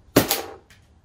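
A hybrid Cocker paintball marker fires a single sharp pop, close and loud, followed by a brief fainter echo or impact.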